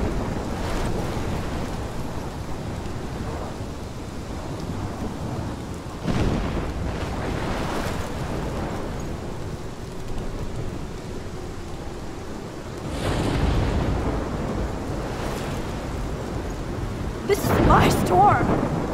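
Rolling thunder booms repeatedly in a storm in Life is Strange, loud low rumbles swelling and fading over a constant roar of wind and rain, with a sharper crack near the end.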